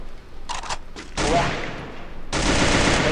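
Gunfire bursts from the video game Free Fire crackle loud and close, with a few short shots and then sustained rapid automatic fire. A player's voice sits faintly beneath the shooting.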